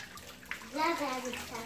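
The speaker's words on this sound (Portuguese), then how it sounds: "Agora joga o resto da água. Joga essa água." Leftover water from a fish bag is poured out after releasing a carp, a short soft splashing pour with a voice talking over it.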